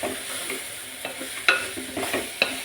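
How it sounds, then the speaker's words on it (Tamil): Carrots, potatoes and green chilli for a vegetable kurma sauté in a pan, a steady sizzle punctuated by irregular scraping knocks of a spoon stirring them close up. "காய் எல்லாம் நல்லா வேக நல்லா இப்படி மிக்ஸ் பண்ணி கிண்டி விடணும்"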